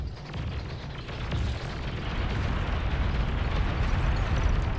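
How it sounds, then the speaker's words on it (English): Bombers in Beyond All Reason pound enemy units with a dense, continuous rumble of explosions that swells steadily louder across the clip, no voices heard. "The friendly bombers, although also kill the Centurion, do take out a large quantity of those units"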